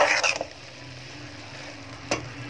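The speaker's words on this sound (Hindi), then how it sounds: "बैगन ऐड कर दीजिए अब आप इसको अच्छे से मिक्स करेंगे" A spoon stirs potato and eggplant bharta in a pan, giving a brief scraping burst at the start and another short scrape near the end, with a low steady cooking hiss in between.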